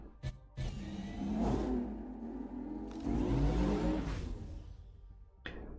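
An in-game Porsche-inspired car skin in Overwatch produces an engine revving up and accelerating in a few loud swells with a whooshing pass, close and clear with no voices.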